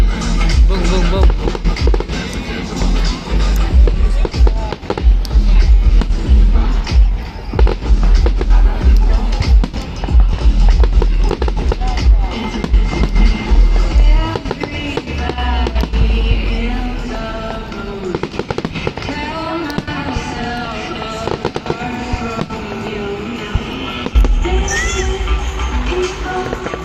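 New Year fireworks burst over the Tampa Riverwalk, loud booming explosions and crackles repeating throughout, mixed with crowd noise and people talking nearby.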